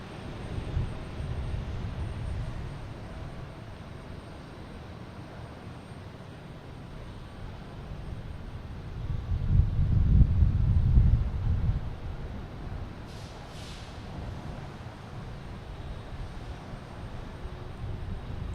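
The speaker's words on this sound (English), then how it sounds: "Next to arrive is the JetBlue coming in from Philadelphia" A JetBlue airliner arriving at Boston Logan from Philadelphia, a faint, distant low rumble that swells around the middle and then eases off, with wind noise on the microphone throughout.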